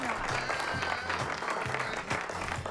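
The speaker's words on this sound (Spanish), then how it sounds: "manda los aplausos igual, Stephen." A canned applause effect runs during a live Spanish-language talk stream, moderately loud, continuous clapping with voices talking over it.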